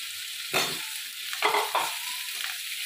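Spice paste being stir-fried in a pan alongside potatoes for a masoor dal dish, with a steady sizzle and a few sharp scraping stirs of a spatula, close and fairly loud.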